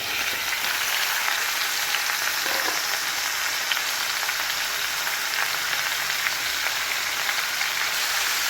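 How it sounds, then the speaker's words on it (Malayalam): Okra and tomato sautéing in coconut oil for Kerala sambar, giving a steady, even sizzle and crackle that runs unbroken throughout with no talking. "വെണ്ടയ്ക്കയും തക്കാളിയും കൂടെ ഒന്ന് വഴറ്റിയെടുക്കാം"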